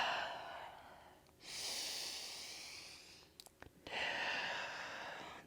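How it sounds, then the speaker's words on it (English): Breathing during a yoga session for strength and toning of the hips and core: a couple of long, airy inhales and exhales, close but soft, separated by a brief pause. "Let's take another inhale and exhale."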